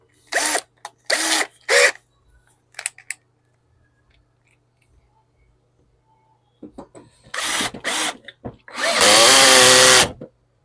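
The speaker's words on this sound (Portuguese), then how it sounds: "a gente pega uma broca bem fininha, bem mais fina que o parafuso" A very thin drill bit bores a pilot hole, narrower than the screw, into a workpiece in a woodworking shop: a few short bursts, then a loud, sustained, whining drill run near the end.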